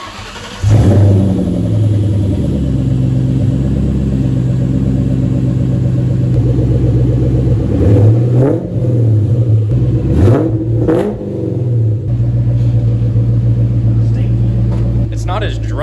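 A 1999–2004 New Edge Mustang V8 making about 600 hp, with an aftermarket DNA catback exhaust, fires up and idles with a deep, loud rumble, blipping the throttle a few times mid-way.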